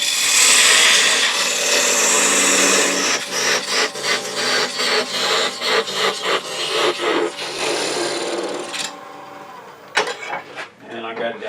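A woodturning tool makes a peeling cut in wood on a lathe: a continuous loud scraping hiss gives way to a run of rhythmic rasping pulses as the cut proceeds, ending in scattered scrapes and knocks.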